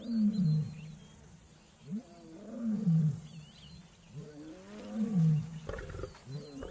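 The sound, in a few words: lone male lion roaring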